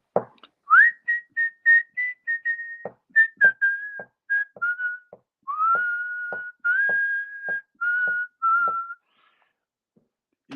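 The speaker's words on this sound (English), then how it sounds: "Whistles are so great as placeholders for lyrics." A person whistles a song melody in place of the lyrics, a clear solo tune of short phrases and held notes with breaths between, close and alone, ending in silence.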